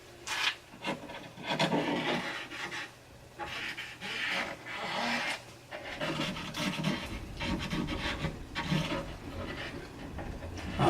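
Shellac rubbed onto a wooden surface with a Q-tip during French polishing, a close, dry rasping scrub in repeated strokes separated by brief pauses.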